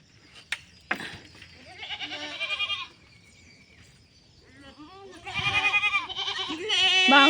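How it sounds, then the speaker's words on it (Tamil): Young goat kids with colds bleat repeatedly and loudly up close, in several wavering bursts with brief pauses between, along with a couple of sharp knocks near the start. "நம்ம ஆட்டுக்குட்டிங்கெல்லாம் ஒட்ட விடலாம்"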